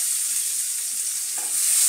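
Chopped onion with bay leaf, cinnamon and cardamom sizzles in hot oil, a constant loud hissing fry for the brief moment with no talk.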